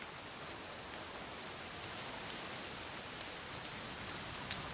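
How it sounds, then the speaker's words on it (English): Steady rain falls in the survival video game The Forest, a dense, even hiss of drops with a few sharper patters, continuous and close with no voices. "it's starting to rain harder"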